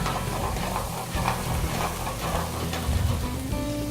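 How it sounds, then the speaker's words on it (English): Vegetables sauteing in a hot pan crackle and sizzle steadily throughout, a close, busy hiss with scattered pops and no talking. "Everybody's just hopping and jumping, and that's what you call sauteing."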